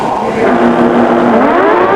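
Pro Stock drag bikes roaring down the drag strip side by side, a loud sustained engine howl with pitch climbing as they accelerate away, faint voice beneath.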